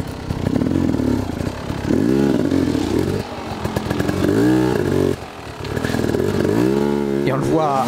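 Enduro motorcycle clambering over rocks in a hard enduro event at Licq Athérey, its engine revving loudly in repeated surges and dips with clattering knocks from the rough ground, a commentator talking over it.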